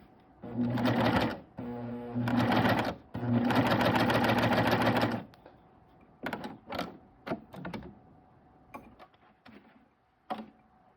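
A sewing machine hemming knit fabric runs in three loud close bursts of rapid stitching, then stops for softer clicks and handling knocks of the machine and cloth.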